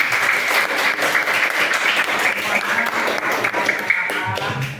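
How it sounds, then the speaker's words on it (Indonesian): A classroom of students claps together in a lively burst, crisp individual hand claps blending into continuous applause that stays fairly loud throughout. "Kasih tepuk tangan untuk semuanya."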